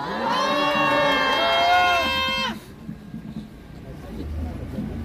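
A crowd at an outdoor protest press conference outside a police station gives a sustained cheer of many voices that breaks off into quieter murmuring and scattered noise.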